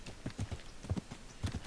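Horse hooves clip-clopping along a dirt path in the medieval video game Kingdom Come Deliverance, a steady close rhythm of clustered footfalls with no talking.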